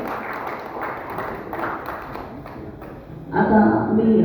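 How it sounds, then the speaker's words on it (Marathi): Audience applause for the cast and director of a drama at a Mumbai Marathi Patrakar Sangh stage event, a louder burst of clapping swelling near the end over a murmuring hall. "त्यांच्यासाठी एक जोरदार टाळ्या वाजवून"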